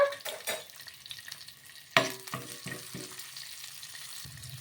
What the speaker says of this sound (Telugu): ఇందులోకి ఒక పది వెల్లుల్లి రెబ్బలు అలాగే ఒక స్పూన్ అంతా జీలకర్ర కూడా వేసుకోవాలి